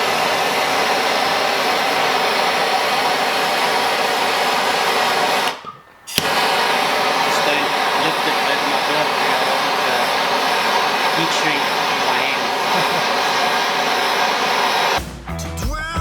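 A torch or heat gun heats a seized external bearing ring on a 1988 Dixon ZTR 311 friction-drive mower, a steady loud roaring hiss close up, cutting out briefly near six seconds and again at the end.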